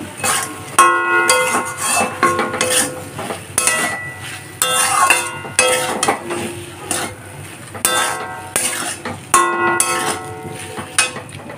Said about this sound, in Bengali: এখন হালকা কষিয়ে নেব